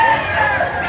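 Chickens and roosters cluck and crow on a farm in Montalban, Rizal, a brief loud burst of fowl calls layered together close by.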